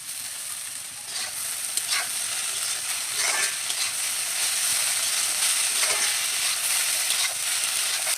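Chopped banana stem fries with sugar in a hot pan, giving a steady, close sizzle with soft scraping from stirring running through it.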